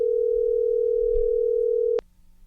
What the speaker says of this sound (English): Jeff and David, let's get on the phone now with Julia Rubin.